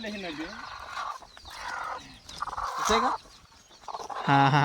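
Free-range country chickens and chicks cluck and call on a rural farm, their bursts coming and going under ongoing conversation between people nearby.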